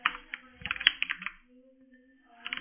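A quick burst of computer keyboard typing as a stage name is entered, with close, crisp key taps for about a second and a half, then a brief pause and a couple more taps.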